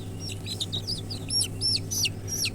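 Young desi chicken chicks, about 30 days old, peep in high, sharp chirps, several in quick succession, close by over a low steady hum.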